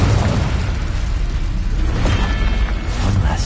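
Loud, rumbling blasts from the Confringo blasting spell in the video game Hogwarts Legacy, a dense continuous roar of explosions with crackling bursts near the end, heard up close.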